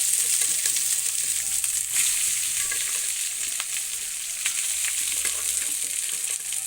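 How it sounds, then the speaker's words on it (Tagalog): Cooked rice and garlic fry in a hot pan, with a bright, continuous sizzle broken by quick scraping stirs and no talking. "mag-fried ako ng kanin. So, ayan. Lagay na ako ng garlic."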